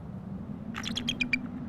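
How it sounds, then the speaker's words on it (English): A female American eagle, covered in snow on the nest, screams at her mate: a quick run of about six high, sharp chirping notes, fairly faint over a steady low rumble of wind. "she's screaming right now at the male"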